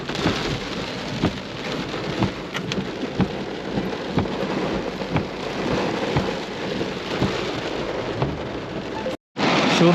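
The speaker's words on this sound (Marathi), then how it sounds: "पाऊस बघा समोरचा अजिबात दिसत सुद्धा नाही आहे एवढा जोरात पाऊस पडतो" Heavy rain pours down steadily in a dense roar around a car, with scattered louder drops and hits, nearby and continuous.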